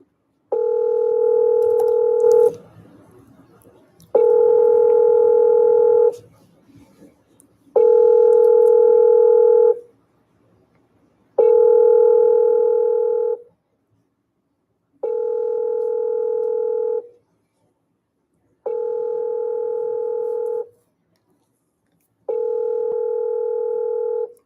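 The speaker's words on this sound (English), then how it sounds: "we're calling a McDonald's in Honolulu, Hawaii" A telephone ringback tone repeats while calling a McDonald's in Honolulu, Hawaii: steady evenly spaced buzzing tones about two seconds long separated by short silences, clear and close.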